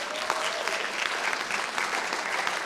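Audience applause with scattered cheers fills a hall during a Historically Black Colleges and Universities night event, a steady dense clapping from a sizable crowd throughout.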